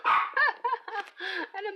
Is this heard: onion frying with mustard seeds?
no